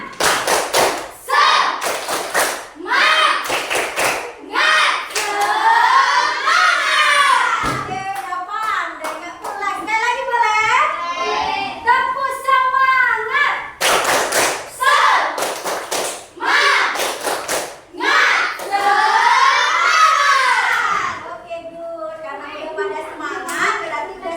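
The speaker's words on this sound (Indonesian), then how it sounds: "Oke, tepuk semangat." A classroom of students performs a patterned spirit clap in unison, bursts of rhythmic claps and thumps alternating with children chanting and voices throughout, loud and close in a school lesson setting.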